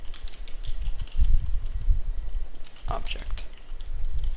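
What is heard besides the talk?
typing on a computer keyboard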